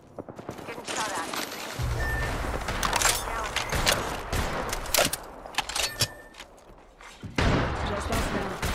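Gunfire in an Apex Legends match, dense overlapping automatic shots and impacts throughout, loud and busy, mixed with game effects while a player talks over it.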